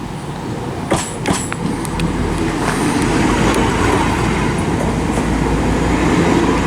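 A six-carriage Class 172 diesel multiple unit, two units coupled, passes at Stourbridge Junction station. A steady, loud rolling rumble of wheels on rail holds throughout, with a few sharp clicks near the start.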